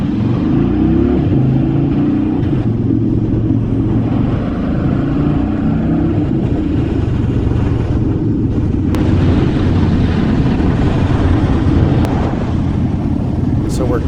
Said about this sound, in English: you got to sit in a little bit of traffic